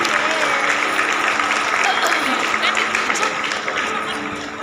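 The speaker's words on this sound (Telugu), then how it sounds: "గట్టిగా చప్పట్లు కొడదాం." An audience claps loudly and continuously at a spiritual leader's 70th birthday celebration, a dense crowd applause with voices mixed in, slowly fading toward the end.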